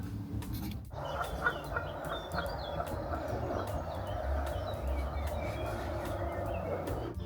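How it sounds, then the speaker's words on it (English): Canada geese honking in the nature video game One for Sorrow, a scatter of repeated calls over a steady outdoor ambience, moderately near and continuous throughout. "Canada goose, which I can see right there"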